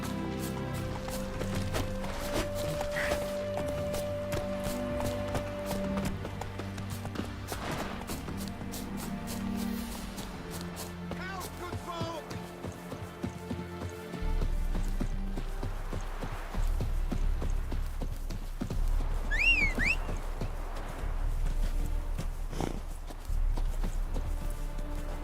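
Roach, Geralt's horse in The Witcher 3, gallops with a steady, driving clip-clop of hooves that runs throughout, loud and close beneath game music and ambient sound, the rhythm shifting partway through.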